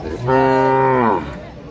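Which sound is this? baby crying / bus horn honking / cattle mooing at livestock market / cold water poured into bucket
cattle mooing at livestock market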